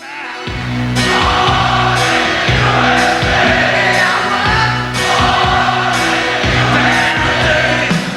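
A huge crowd of over 300,000 people on a dusty field in East Berlin chanting at a concert, a loud, rhythmic mass roar rising and falling in repeated waves.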